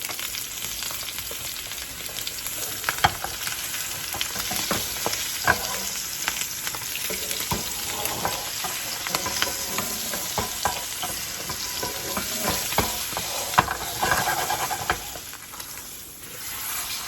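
A sous vide ribeye steak sears in a pan with butter and garlic, sizzling steadily and loudly for the whole stretch, with occasional clicks and spatters of fat and no talking.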